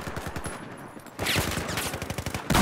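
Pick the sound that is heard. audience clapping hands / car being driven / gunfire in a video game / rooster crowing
gunfire in a video game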